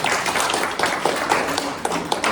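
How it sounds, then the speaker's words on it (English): A small audience clapping for a presenter after a talk, steady scattered hand claps of moderate loudness without any talking over them. "let's give Monica a round of applause"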